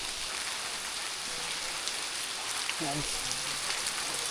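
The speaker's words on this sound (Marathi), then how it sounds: "आणि पाऊस चालू झालाय" Steady monsoon rain hisses down on a Sahyadri hill trail to Bhimashankar as a constant wash of noise, fairly soft, with a brief faint voice partway through.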